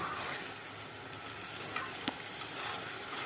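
Beetroot halwa sizzles and fries steadily in ghee in a pan, a dense continuous crackle with a few small pops and stirring scrapes, close and alone without talk.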